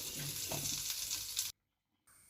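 Chopped ginger and garlic sauté in a pan for prawn roast, a faint steady sizzle with light stirring that cuts off abruptly into silence, then a brief return.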